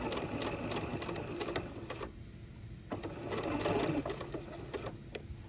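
A sewing machine runs a straight stitch with a steady, close mechanical whirr that dips briefly around the back stitch and then picks up again, alone without talk.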